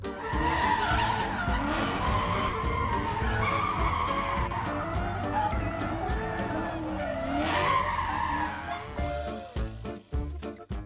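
Car drifting with loud, sustained tire squeal and skidding over a roaring engine, the screech rising and falling for several seconds before cutting out into a few thumps and clatters.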